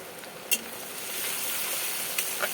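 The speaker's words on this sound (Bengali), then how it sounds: "এই পেঁয়াজ ভাজার মধ্যে আমি একটু দারচিনি দিয়ে দিলাম" Ground onion with a little cinnamon frying in oil for a fish kofta curry, a steady close sizzle with a few sharp spits and pops of spatula contact.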